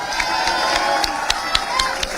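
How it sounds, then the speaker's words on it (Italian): Napoli supporters cheer and clap as a player appears at a fan meet-up in Castel di Sangro, a steady dense crowd roar with sharper whoops and claps punctuating it. "A lui sì che va fatto l'applauso."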